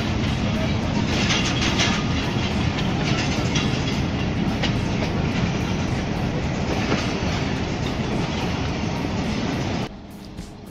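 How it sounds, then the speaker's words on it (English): Pakistani Hazara Express passenger train running between Rawalpindi and Havelian, with a loud, steady rumble of rolling wheels and rhythmic rail clatter close by, continuing almost unbroken before dropping slightly at the end. "The last Pakistani railway station towards the north by private train Hazara Express."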